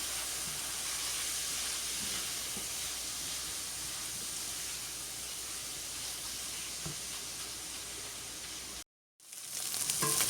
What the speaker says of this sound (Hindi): अब इसको हम मज़ीद भून लेंगे।